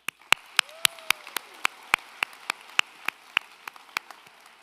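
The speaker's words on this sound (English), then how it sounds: "Can you please give you a round of applause?" At a high school graduation ceremony, a few hands clap slowly and evenly, about sixteen crisp separate claps at a steady rhythm. They sound faint against a quiet room, with a brief faint tone sliding underneath.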